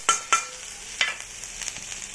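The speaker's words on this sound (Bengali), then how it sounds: "এবার এর মধ্যে দিয়ে দেবো থেতো করে রাখা আদা আর রসুনটা" Crushed ginger and garlic added to lightly fried onions in a hot pan, giving a few sharp sizzling bursts followed by softer crackling and stirring, close and without talk.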